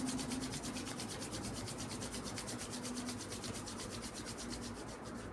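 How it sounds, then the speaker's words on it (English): Palms rubbed together vigorously in a steady, fast rhythm, giving a continuous soft swishing friction sound, close and fairly quiet. "Rub your palm rigorously, little bit more."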